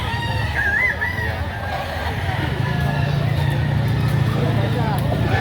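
A bull stag gamecock crows once, short and fairly faint, over a steady background hum while people talk nearby.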